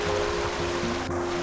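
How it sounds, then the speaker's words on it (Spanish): A small stream flows beside a forest along the Camino de Santiago in Pontevedra, a steady close rushing and gurgling of water with no voices. "el bosque tiene al lado un pequeño riachuelo, pequeño, pero mira cómo baja el agua"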